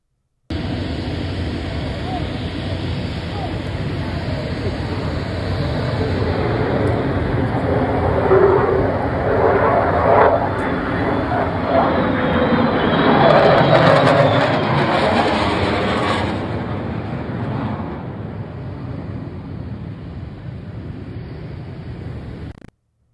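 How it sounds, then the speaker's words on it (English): A military bomber passes overhead in a broad, sustained roar that swells toward the middle and then fades, loud and continuous. People can be heard faintly talking beneath it. "during this meeting, we flew a bomber overhead"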